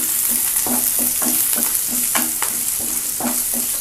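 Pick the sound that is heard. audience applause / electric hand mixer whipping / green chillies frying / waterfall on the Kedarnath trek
green chillies frying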